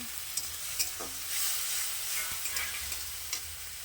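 Whole garlic cloves and chopped tomato sizzle in a hot pan, a steady bright hiss with a few soft stirring knocks, fairly quiet and close, with no voices.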